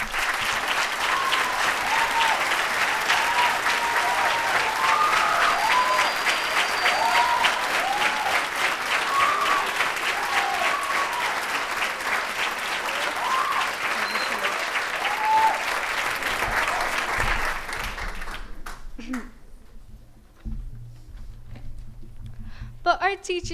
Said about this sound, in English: if the audience can please give them a round of applause